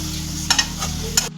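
Prawn curry being stirred in a pan, with a few soft scraping strokes over a low, steady sizzle and hum, close and brief.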